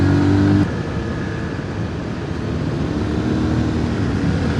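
A Beta Alp 4.0 dual-sport motorcycle engine lugs in the wrong gear, a low steady droning rumble close to the rider with a slight drop in tone early on, loud and without talk.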